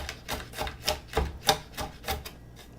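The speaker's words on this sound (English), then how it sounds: "We're just going to do rough chop." A knife rough-chops sprouting garlic on a board in quick, irregular taps, about a dozen close, crisp strikes with small pauses between them and no talking.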